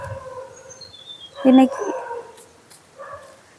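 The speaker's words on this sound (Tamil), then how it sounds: "எங்கள் வீட்டில் வேறு நாய் வந்து ரொம்ப சத்தம் போட்டுட்டே இருக்குது" Dog barking and howling near a house, a loud burst of yelps and howl rising over faint background sounds, with someone speaking briefly before and after.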